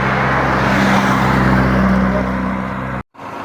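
Road traffic rolls past in a loud, steady roar of cars that fades slightly before cutting off abruptly near the end.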